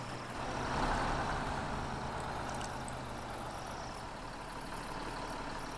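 Truck engine idling in a truck-driving video game, a low steady rumble holding evenly after starting, with faint high chirping over it and no speech.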